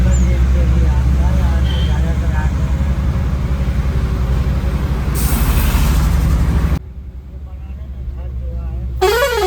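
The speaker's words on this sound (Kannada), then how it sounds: "ಗಾಡಿ ಬರ್ತಾ ಇದೆ ಅನ್ಸುತ್ತೆ." Inside a truck climbing the Dhimbam Ghat road of 27 hairpin bends, a steady heavy engine rumble fills the cab while horn blasts mark an approaching vehicle. The engine noise drops near the end, followed by a short bright toot.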